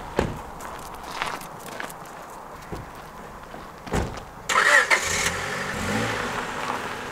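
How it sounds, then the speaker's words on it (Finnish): A BMW car engine turns over and catches around the middle, then settles into a steady running idle after earlier scattered footstep-like knocks and clunks; close and fairly loud, with no talking. "Kone käy hyvin"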